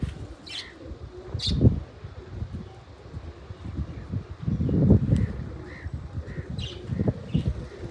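Pigeons cooing in soft repeated bursts at close range, with scattered chirps and a light wind hiss between calls, no clear speech.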